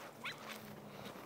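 A dog stuck in brambles gives a brief faint whimper and a couple of soft yips, distant and quiet against an otherwise still outdoor background.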